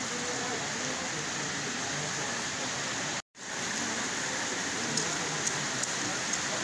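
Steady rain falls in June in Manisa, Turkey, a dense even hiss that runs continuously, broken by one brief dropout midway, with a few faint sharp drips toward the end.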